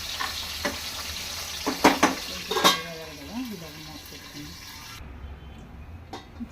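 Food sizzles steadily in a lid-covered pan while cooking for an egg curry, a soft continuous hiss with a few clinks and stirring noises, and a person talks over it.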